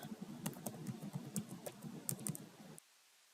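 A new password is tapped out on a computer keyboard in a rapid, steady string of close, crisp keystrokes over a low background hum, stopping abruptly near the end.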